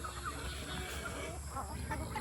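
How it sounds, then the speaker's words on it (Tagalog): Poultry clucking softly and steadily over a low farmyard rumble, with scattered short calls rising now and then. "So ayan yung ating mga pabo at manok din."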